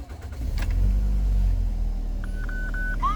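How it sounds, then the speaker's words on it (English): Toyota Wish engine starting up nearby, a brief cranking burst followed by a low steady idle rumble, with a few electronic beeping tones from the dashboard near the end. "Let me start this vehicle."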